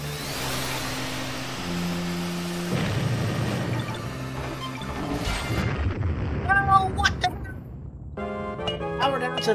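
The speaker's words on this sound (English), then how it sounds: "An explosion." A heavy blast in a video game, a booming burst that rises out of engine-like drone and game music, followed by crackling debris and a chime-like jingle, with a voice talking over it.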